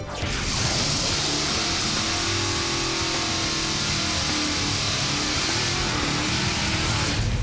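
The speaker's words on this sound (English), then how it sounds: "Decent burnout, decent burnout." A small-block Chevy powered Jeep CJ7 does a drag racing burnout, its engine roaring loud and steady for the whole stretch with a broad hiss of spinning tires on top, no voices heard.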